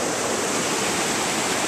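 A creek in high flow rushes steadily as a dense, unbroken roar, loud and close, with no voices.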